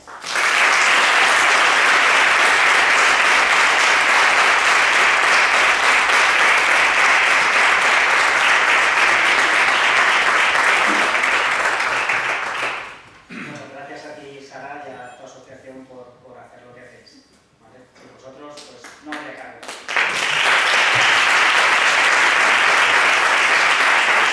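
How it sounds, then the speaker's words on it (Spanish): Big applause from a crowd for the organizers of a charity fun run at a falla festival event, loud and sustained, then a break where talking is heard before the clapping swells again. "pido a todos los que han hecho posible esta gran carrera un enorme aplauso"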